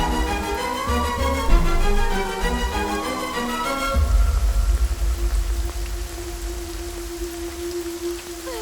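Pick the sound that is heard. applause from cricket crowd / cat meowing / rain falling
rain falling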